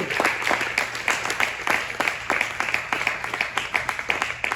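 A church congregation claps together in worship, a steady run of crisp, rhythmic hand claps at a fairly brisk pace, filling the room from start to finish with no voices over it.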